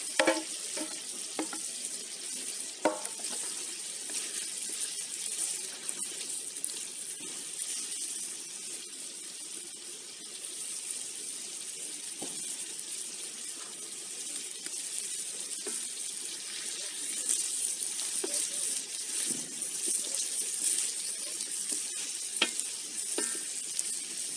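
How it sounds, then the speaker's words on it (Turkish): Chopped green and red peppers fry in a sac pan, a steady close hiss of sizzling oil with occasional scraping stirs, with no voices. "Şimdi bu aşamada yeşil biberlerimize, kırmızı biberlerimizi ekleyelim."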